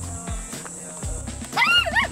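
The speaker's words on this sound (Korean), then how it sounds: "강아지." A puppy in a rural countryside setting by rice paddies gives a few short, close barks and yips, ending in a rising, wavering whine.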